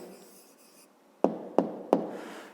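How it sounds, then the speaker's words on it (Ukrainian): A pen writes an answer to a fifth-grade math exercise on paper, a soft scratching followed by three sharp taps, close and alone. "а тепер записуємо відповідь"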